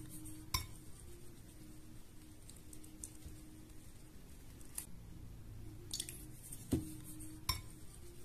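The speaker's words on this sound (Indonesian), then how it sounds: "tuangkan slime activator sedikit demi sedikit sambil diaduk" Slime being stirred while activator is poured in gradually, giving soft squishy sounds with a few sharp clinks and taps from the utensil against the container, faint and close, with no talking.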